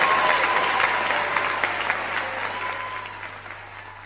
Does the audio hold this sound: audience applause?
yes